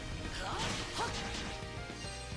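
Combo attacks landing in Ys VIII: Lacrimosa of Dana on PS4, a quick run of smacking, crashing hits over game music, with a voice talking faintly beneath.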